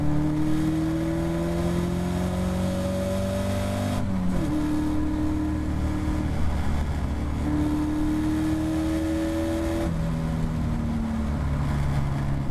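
A Caterham Academy race car holds full power up a climb at Oulton Park, its engine a loud, close, continuous drone that rises through the gears, with brief drops at each shift before climbing again.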